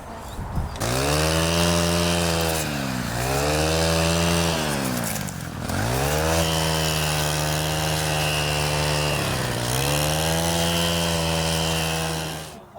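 A petrol power tool trims vegetation beside the Lichfield Canal, its loud, close engine whining and revving up and down in repeated surges with brief dips between cuts.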